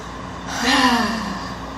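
A single deep, audible inhale swells and fades during a guided breathing exercise by Newton Lake, close and breathy, rising to a peak in under a second, over a low steady background hum with no words.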